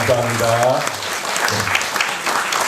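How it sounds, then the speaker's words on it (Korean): A congregation applauds during a Sunday church service, steady clapping throughout, with a voice speaking briefly over the start. "이제 박수 해주시기 바랍니다"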